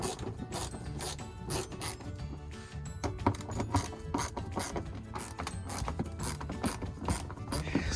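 A ratchet wrench loosens bolts on the rear bumper of a BMW E90, clicking in rapid, close, repeated bursts with a grinding, metallic texture.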